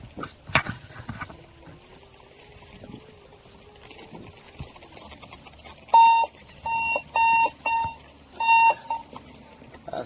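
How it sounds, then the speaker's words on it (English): A 90 amp alarm on an electric vehicle climbing a short incline sounds a series of sharp electronic beeps in quick bursts, loud and close after a stretch of low road and motor noise. "That's my 90 amp alarm."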